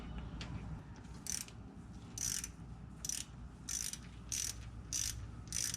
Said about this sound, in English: You just need to use that wrench, ratchet, to tighten it up.